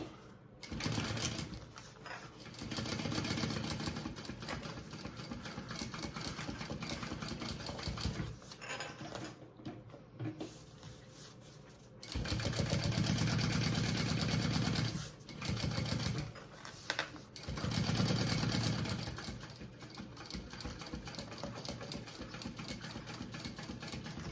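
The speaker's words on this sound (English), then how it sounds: "I'm gonna flip it over and baste it together from this side so I can see what I'm doing." A sewing machine bastes the layers of a fabric travel belt in several separate bursts of fast, steady stitching, each run a few seconds long, with quiet handling and fabric rustle in the pauses between them.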